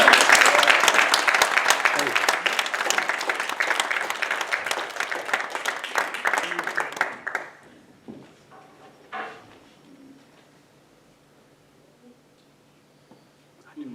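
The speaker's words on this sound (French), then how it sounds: "Et on vous demande un tonnerre d'applaudissements pour Maya et Stéphane." Brisk, close applause from a theatre audience at a student drama performance rattles on for about seven seconds, then stops abruptly, leaving quiet stage movement and faint scattered sounds.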